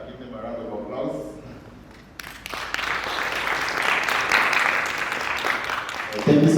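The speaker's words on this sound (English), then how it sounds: "ask everyone to give them a round of applause" Audience applause after a panel session on health information systems and digital health, a speaker's voice first, then steady, building clapping from a room crowd that continues to the end.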